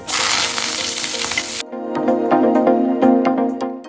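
A broad frying hiss gives way to sharp, irregular pops and crackles of mustard seeds spluttering in hot oil, close and fairly loud.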